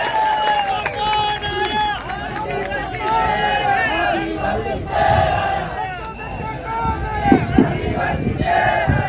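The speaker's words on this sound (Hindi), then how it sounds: "उनको जोरदार ताली के साथ स्वागत करो दोस्तों।" A crowd gathered for the Bharat Adivasi Party foundation day event erupts in loud, sustained cheering, shouting and clapping as a tribal speaker is welcomed, a dense roar that continues steadily throughout.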